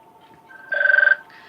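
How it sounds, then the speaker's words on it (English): Brief electronic telephone ring, a single warbling trill lasting about half a second, clear and close against a quiet background. "Waiting for that phone to ring."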